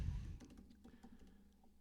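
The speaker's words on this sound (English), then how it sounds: "and I'm typing this now" Fingers typing on a computer keyboard, a quiet, irregular patter of light key clicks at close range, with no voices over it.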